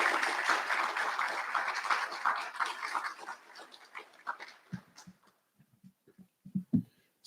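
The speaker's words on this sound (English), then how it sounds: "Can we give a round of applause to Dr. Sams and Dr. Anker for their encouraging and inspiring words?" A recognition ceremony audience gives a round of applause that starts full and steady, then thins and fades over a few seconds, leaving scattered soft thumps and noises.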